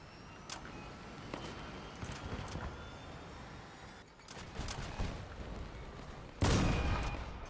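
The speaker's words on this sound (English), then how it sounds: "I think that was a gun" Gunfire in the vehicle combat game Crossout: scattered sharp shots and short bursts over a rumbling engine-like background, ending in a loud, heavy blast near the close.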